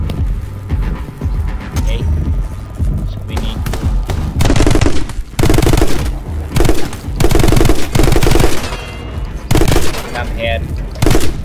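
Gunfire from the action video game My Friend Pedro: loud, dense bursts of rapid automatic shots separated by short pauses, with a voice talking over and between the volleys.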